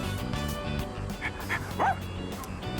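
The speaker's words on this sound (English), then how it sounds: "That dog. Hey, it's that dog." A dog barks and yips in the video game Persona 3 Reload, a few short near barks with a whimpering edge over steady game background music.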